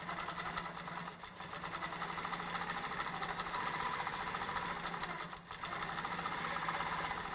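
A Q'nique 15 R mid-arm quilting machine stitching, a steady fast mechanical whir with a rhythmic chatter, running close and continuous with two brief dips.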